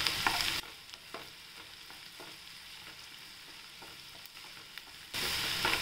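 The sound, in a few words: spring onion greens being sautéed in a pan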